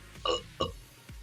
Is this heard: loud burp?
yes